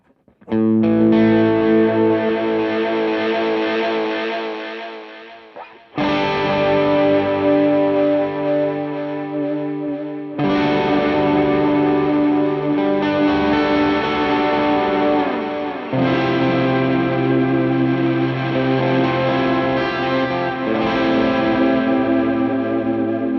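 A tape delay effects unit produces sustained, echoing tones with layered repeats, swelling and shifting across a few long passages, loud and prominent with no voices.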